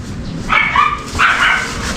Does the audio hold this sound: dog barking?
yes